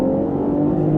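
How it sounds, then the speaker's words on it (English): A BMW X7 SUV climbs a hill under throttle, its engine giving a steady, smooth hum from inside the cabin with no talking. "So I'm going to go up my test drive hill where I can give it a little gas, see what this car is made of."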